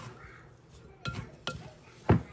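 Butter mixture being stirred by hand in a bowl with a utensil other than a spatula, giving three sharp, separate clinks against the bowl over a quiet background.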